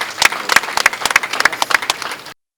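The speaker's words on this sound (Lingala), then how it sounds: "Sous les applaudissements." Audience applause at a ceremony congratulating TRANSCO's director general, Chief Tshipamba: a burst of dense, close clapping from a crowd that runs steadily for about two seconds, then stops abruptly.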